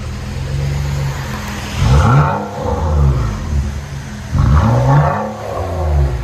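A 2012 Nissan Maxima 3.5L V6 with dual exhaust and a muffler delete revs twice from a rumbling idle, each throttle blip rising sharply and then falling back, loud and close.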